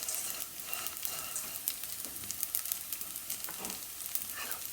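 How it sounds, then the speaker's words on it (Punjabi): Edible gum (gond) puffs and fries in hot fat for alsi makhana pinni, a steady close sizzle with crackling pops and light stirring scrapes throughout. "ਗੋਂਦ ਆਪਣਾ ਆਲਮੋਸਟ ਫੁੱਲ ਗਿਆ ਹੈਗਾ ਬਹੁਤ ਵਧੀਆ ਫਰਾਈ ਹੋ ਗਿਆ ਹੈ"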